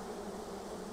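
Honey bees stirred by smoke during a hive inspection give off a dense, continuous buzzing drone, close and steady over a single second, with no speech.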